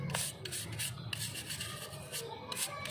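A brush rubs over a horse's hoof in quick, rhythmic scrubbing strokes, close up and steady for a few seconds.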